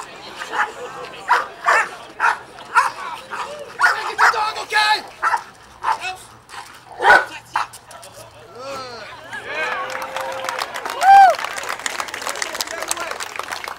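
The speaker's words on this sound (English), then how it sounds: "controlled bark, okay, controlled bark" A police dog at a shooting event barks in short, controlled bursts on command, loud and close, with a handler's voice and some crowd noise mixed in between the barks.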